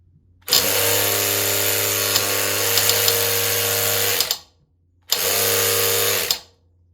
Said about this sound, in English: let's give the high-speed ratchet a shot